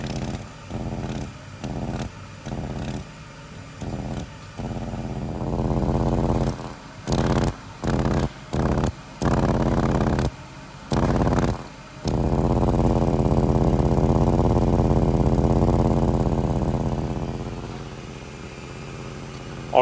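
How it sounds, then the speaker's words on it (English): A 300 wagon engine running with an exhaust leak, idling in bursts that cut in and out with short breaks, then a longer steady run of rough, chuffing engine noise that fades toward the end, heard up close with no talking. "The complaint with this one is an exhaust leak, and in real time, this is how hard it was to find."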